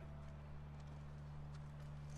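Horse hooves clip-clop at a steady walking pace, faint beneath a constant low hum and ambient background noise.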